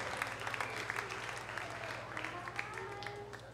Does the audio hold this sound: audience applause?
yes